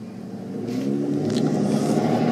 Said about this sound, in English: And sorry about all that noise, man. I'm right next to a street.